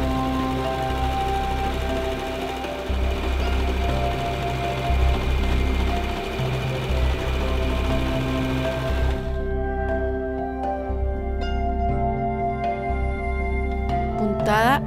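A Janome J311 sewing machine stitches an elastic zigzag with a close, steady, rapid mechanical whir that runs continuously, then stops with a few lighter clicks at the end.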